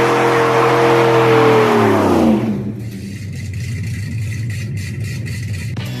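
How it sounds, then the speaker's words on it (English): A 2002 GMC Sierra truck doing a burnout roars loudly at high revs, then the engine pitch drops and settles into a rougher, lower idle-like rumble, close and alone. "we're doing burnouts."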